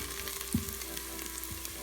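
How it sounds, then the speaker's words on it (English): Green onion and garlic frying in a pot while being stirred, a steady close sizzle with a couple of soft utensil knocks. "Add the garlic and give that a little mix."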